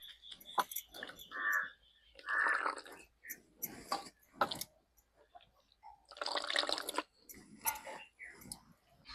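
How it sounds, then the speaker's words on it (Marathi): Finely grated cabbage being rinsed in water, with intermittent splashing and sloshing bursts separated by short quiet gaps, close and moderately loud. "कोबू असा बारीक किसून घेतला आता ते धुवून घेते"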